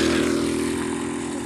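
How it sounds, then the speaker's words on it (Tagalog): A motorcycle engine revs and drones along a provincial road in Quezon, a loud, steady, rough mid-pitched roar close by with no voices. "Bibilis magpatakbo ng mga motor."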